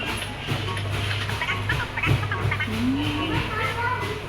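Several geese honk and gabble close by over a constant low hum, with people talking now and then.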